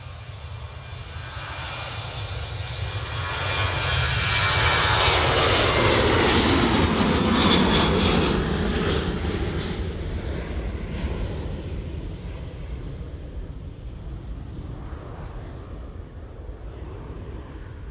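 A Sun Express airliner takes off from Manchester Airport bound for Dalaman, its jet roar building, peaking loud and close mid-clip, then easing as it climbs away.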